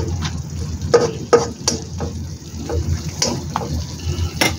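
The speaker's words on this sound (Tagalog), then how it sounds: "Haluin lang natin." Seasoned leftover food stirred in a pan, short scraping utensil strokes at an uneven pace over a low sizzle, close and moderately loud.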